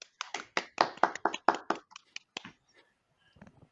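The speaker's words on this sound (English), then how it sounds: "So, round of applause." A few people clap in a short burst of sharp, uneven claps that thin out and fade to a couple of faint taps.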